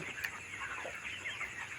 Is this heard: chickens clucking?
yes